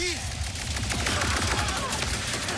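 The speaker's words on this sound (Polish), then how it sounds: "strzelam najgorszymi możliwymi broniami" Rapid weapon fire from the video game Ratchet & Clank: Rift Apart rattles on without a break, loud and close, as a dense stream of shots with other game effects mixed in.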